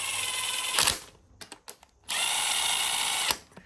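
A power socket tool tightening bolts on a Craftsman DYT 4000 lawn tractor engine, giving two loud whirring bursts separated by a few short ratcheting clicks, close and with no speech.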